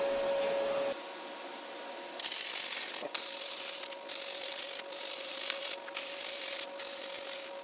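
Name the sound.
wire brushing slag off a stainless steel stick weld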